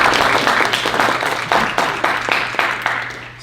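An audience applauds at a youth-issues candidates debate event in Halifax, a dense burst of many hands clapping in waves that gradually fade over a few seconds.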